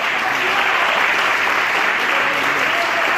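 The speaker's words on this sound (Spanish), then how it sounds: "Dale un aplauso fuerte, Señor." A church congregation bursts into loud, sustained applause during a sermon, many hands clapping in a thick, continuous wash that stays strong from start to finish.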